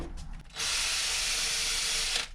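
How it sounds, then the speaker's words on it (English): A wire brush scrubs old nuts and bolts from a Rover P4, giving a steady, loud, close bristly scraping hiss that runs unbroken for about two seconds after a short quieter start. "I also wire brush nuts and bolts."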